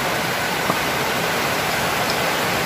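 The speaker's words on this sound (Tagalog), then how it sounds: "Maingay kasi umulan." Steady rain falls outdoors as a loud, unbroken hiss that stays even throughout, with no voices over it.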